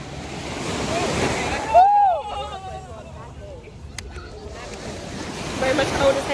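Ocean surf at Sandy Point Beach washes in as a steady, loud roar that drops back briefly in the middle, where people shout and whoop over the quieter water before the waves swell up again.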